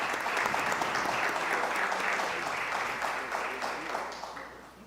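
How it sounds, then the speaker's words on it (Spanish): Audience applause at a panel event on social innovation, a steady wash of clapping from a large crowd that holds strong throughout and thins slightly toward the end. "Los recibimos con un fuerte aplauso a todos ellos."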